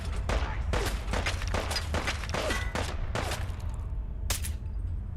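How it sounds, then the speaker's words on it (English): Gunfire in Fallout 4 comes as scattered sharp shots and short volleys over a constant low rumble of game ambience, mid-distance and irregular in rhythm. "Hey, stop shooting me."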